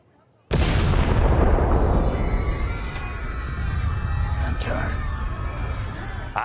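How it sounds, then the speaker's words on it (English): Bomb explosion in a Star Wars Andor scene, a sudden loud blast followed by a long roaring rumble with debris and ringing tones that slowly decays. "A normal person would not be looking at the troopers before the bomb went off"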